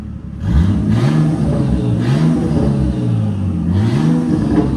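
A 1999 Nissan Skyline R34 with a 2.6L twin-turbo engine revs loudly and close through its exhaust, with several rising and falling blips over a rumbling idle.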